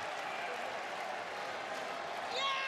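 A capacity arena crowd at a WWE Raw wrestling event in San Jose roars and applauds steadily in the background, a distant, even wash of cheering under a commentator's voice.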